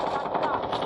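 Rapid automatic gunfire in a Call of Duty match, a dense continuous burst of shots lasting about a second, loud and close.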